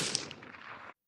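Rifle shot from a CVA Cascade XT in .308 Win firing Hornady Custom 150-grain SST ammunition: one sharp blast followed by a rapidly fading rumbling echo, heard alone with no voices.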